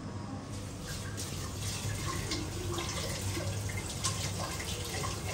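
Tap water runs steadily while food for a child's first meal is washed underneath it. The splashing stream is continuous and fairly loud, with small drips and clatters in a kitchen sink.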